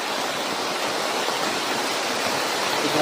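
Heavy rain pours down outdoors as a dense, unbroken hiss that holds at the same loudness from start to finish, with no voices over it.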